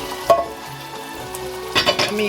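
Ackee fries in hot oil in a pan with saltfish for a Jamaican breakfast, a close, soft sizzle punctuated by a few sharp crackles and stirring clatters.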